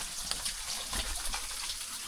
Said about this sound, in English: I can hear water.